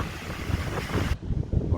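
Wind buffets the microphone on a beach by the dunes at Stockton, a low rumbling roar with gusty swells and no voices.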